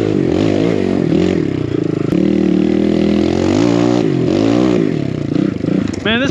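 A BBR KLX170RF dirt bike engine drones loud and close throughout while riding, its pitch rising and falling with throttle changes and the occasional clatter, with possible faint talk mixed in.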